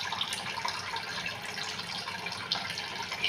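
Tap water runs steadily into a sink while hands are washed, a close continuous splashing hiss with a few small splashes.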